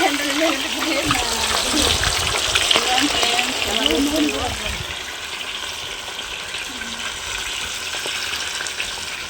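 Fish pakoda pieces frying in well-heated oil, a steady close sizzle and crackle throughout, with a voice talking over the first half.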